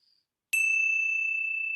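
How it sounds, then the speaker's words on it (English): A meditation bell is struck once and rings out in a clear, bright, sustained tone that hangs without fading much, preceded by a faint tiny chime. "let's close our time with the ringing of the bells"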